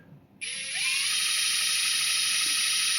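A steady, high-pitched electric whine kicks in sharply after a brief quiet moment and holds constant, from a SeeSii WH700 3-in-1 cordless impact wrench spinning close by as a drill.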